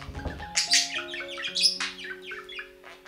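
A budgerigar gives courtship calls, a busy run of chirps, warbles and squeaky tweets close up, with a low steady hum underneath.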